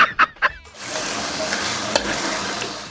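Freshly washed chicken dropped into a hot pan: a few short clatters, then a sustained loud, steady sizzle with an occasional crackle, close up and without speech.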